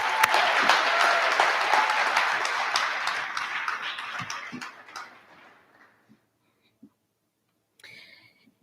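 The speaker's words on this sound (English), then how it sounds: "One more round of applause for Mr." Graduation audience at a high school commencement applauding, a full crowd clapping loudly that fades out over several seconds into near silence, with a few stray claps and a brief voice near the end.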